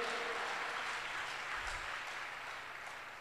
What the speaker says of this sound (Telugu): దగ్గరగా చప్పట్లు కొట్టి ఒకసారి.